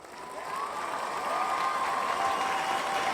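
A studio audience applauds as a guest walks on for a talk show, with dense steady clapping building and holding throughout, a few cheers mixed in.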